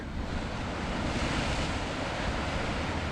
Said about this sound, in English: Look at these waves building out here.